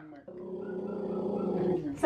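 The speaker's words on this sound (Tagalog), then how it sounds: "Nasaan na yung aso ni Mark?" A dog growls steadily and fairly close for about two seconds, a low sustained rumble that ends in a brief louder burst, heard in a residential street setting.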